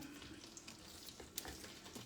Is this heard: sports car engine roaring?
no